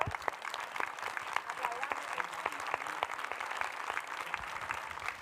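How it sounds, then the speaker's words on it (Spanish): An audience at an interview event with an author claps steadily, a sustained round of applause with sharp individual claps standing out, while a voice speaks over it. "¿Aplaudamos eso?"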